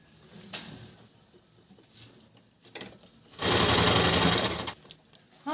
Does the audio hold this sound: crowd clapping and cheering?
no